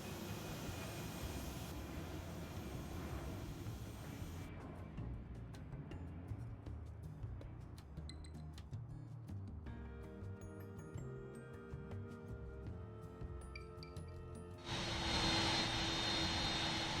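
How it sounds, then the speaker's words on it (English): A Lufthansa Boeing 747 arrives at the airport in the Airport CEO management game, its jet engines a steady broadband roar that thickens and grows louder near the end, with no voices. "Speaking of which, in comes the Lufthansa. 747."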